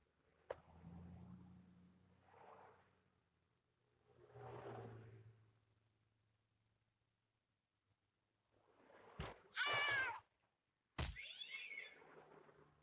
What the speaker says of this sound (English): all this over a stupid, filthy cat